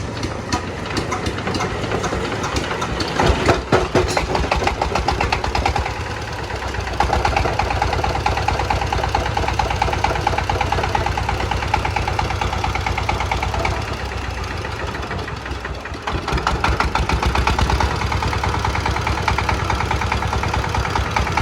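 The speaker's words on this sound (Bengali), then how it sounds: "চলুন প্রথমে আপনাদেরকে ইঞ্জিনটা স্টার্ট দিয়ে ইঞ্জিনের সাউন্ড কোয়ালিটিটা শোনাই" A small hand-start diesel engine rumbles and idles steadily with a rattling mechanical clatter, its pitch shifting slightly as it runs; no talking.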